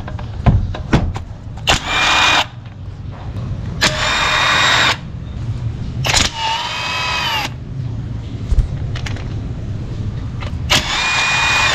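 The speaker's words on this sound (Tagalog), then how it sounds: "mabilis talagang magtanggal pag may power tools tayo" Power tool spinning out oil pan bolts on a Toyota Vios in a series of loud, whining bursts of a few seconds each, separated by short pauses and clanks, with no talk.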